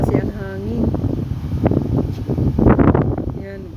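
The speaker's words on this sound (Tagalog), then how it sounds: "Malakas kasi ang hangin." Strong wind buffeting a phone microphone outdoors at a New Year celebration in Qatar, rumbling low gusts that swell and fade under excited talk.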